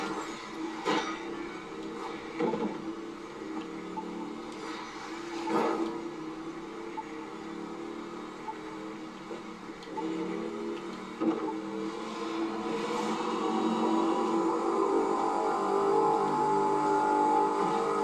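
A car driving in the racing game The Crew 2, with a steady engine drone and rising revs, some brief bumps and shifts along the way, building slightly louder toward the end with no talk.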